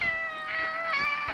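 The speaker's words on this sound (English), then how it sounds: "That was my cat." A house cat gives one drawn-out meow followed by a shorter second one, clear and close, with faint room noise behind.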